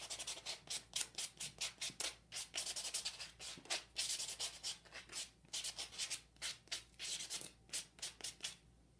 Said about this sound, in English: Use a block to sand the nail to make it smooth.